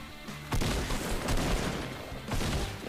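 Assault rifle fire in Fortnite, several bursts of rapid shots hitting loud and close, with a short lull between volleys.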